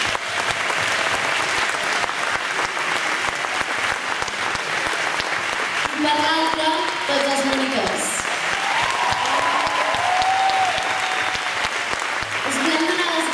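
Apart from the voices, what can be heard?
audience applause at concert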